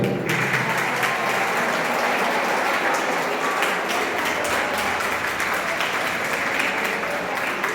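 Loud, sustained applause from an audience of students at a poetry gathering, dense, even clapping that holds steady for the full stretch, with no talk over it.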